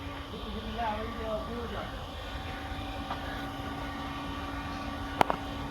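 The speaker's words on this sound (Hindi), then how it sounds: "ये फार्म का ट्रैक्टर ट्राली है," A farm tractor with a trolley on a dairy farm runs with a steady low engine drone, moderately distant, while someone talks over it and a brief sharp click sounds near the end.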